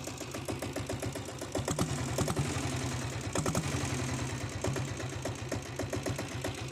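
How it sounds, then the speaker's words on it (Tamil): A 7.5HP self-start diesel Royal Enfield Bullet engine revving, its rapid, even thump rising and falling in pace with throttle, loud and close with no talking. "அப்படியே ரைஸ் பண்ணி காமிக்கிறேன், பீட்டு கேளுங்க"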